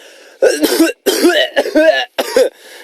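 Several harsh, voiced coughs come in quick bursts separated by brief silences, loud and close.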